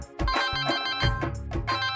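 A telephone rings in a home scene, its electronic ringtone a short run of bright, melodic tones that repeats for a couple of seconds, clear and close, with no voices.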